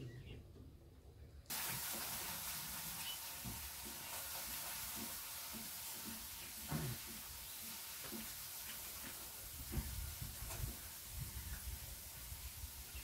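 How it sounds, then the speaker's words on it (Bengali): Fish curry boils on a stove, a steady close hiss with soft bubbling pops and faint stirring clatter running throughout. "ওইদিকে মায়েরও একদম মাছের ঝোল ফুটছে।"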